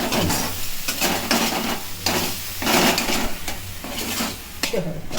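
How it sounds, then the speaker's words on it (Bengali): Spice paste frying in a pan alongside kohlrabi and shrimp, with a spatula repeatedly scraping and stirring against the metal, rhythmic loud strokes over a steady sizzle. "মশলাটা খুব ভালো করে কষতে হবে।"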